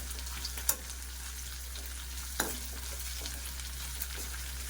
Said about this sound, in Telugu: నేను ఎక్కువ నూనెలో ఏం ఫ్రై చేయట్లేదండి, తక్కువ నూనెలోనే ఫ్రై చేస్తున్నాను